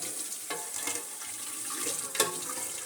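Hot tap water runs into a sink while a pot and spoon are rinsed during home apple wine making, a steady, fairly faint splashing with a couple of louder spurts.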